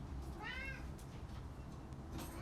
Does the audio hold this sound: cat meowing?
yes